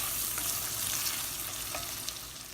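Onions, peppers and garlic fry in a pan with a steady, close sizzle and faint stirring crackles, no voices.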